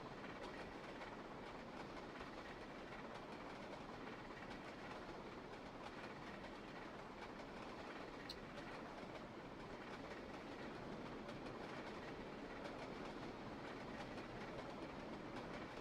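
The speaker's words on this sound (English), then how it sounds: "Alright, so all of those trains are moving now. They're all moving. All are moving, chug it down the line." Trains rolling down the line in a railway video game, a continuous low rumble with faint rhythmic clatter, steady and quiet throughout with no talking.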